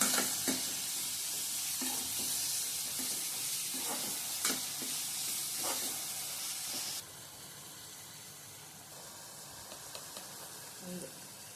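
Prawns sautéing in a pan with turmeric, giving a steady close sizzle and hiss with occasional stirring scrapes and taps, the sizzle easing slightly partway through.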